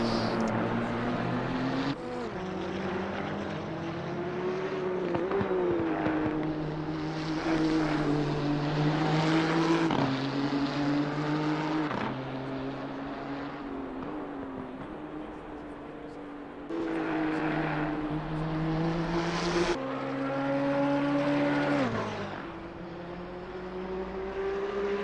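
The front-engined Nissan race car in Assetto Corsa Competizione, racing at Brands Hatch, drones steadily as its engine pitch climbs through the revs and drops sharply at each gear change, repeating over a sustained lap.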